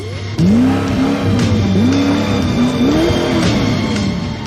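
A Koenigsegg CC8S supercar is driven fast nearby, its engine pitch rising and falling in quick repeated surges through the gears, loud and steady with no voices.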